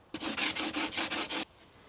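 A blade edge is drawn across a 600 grit sharpening stone in seven quick, even rasping strokes, close and fairly quiet, that stop abruptly into silence.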